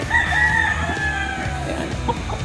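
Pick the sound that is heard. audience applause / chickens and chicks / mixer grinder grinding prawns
chickens and chicks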